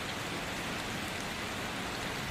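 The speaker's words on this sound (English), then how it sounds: "The rain was light, but constant." Light, steady rain falls on a town street with wet pavement, a constant close hiss of drops with no gaps and no voices.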